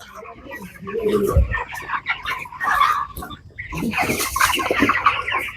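Broiler chickens cluck and squawk close by in a poultry shed, a busy overlapping flock chatter with bursts of louder calls.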